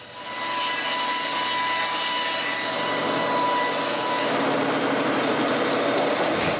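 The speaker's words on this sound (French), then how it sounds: "Quand on a une belle pile de planches, on coupe l'autre côté parallèle avec la première coupe." A saw cuts through a stack of wooden planks in a workshop while building cabin shutters, giving a steady, loud, continuous droning whine that holds throughout and shifts tone partway through the cut.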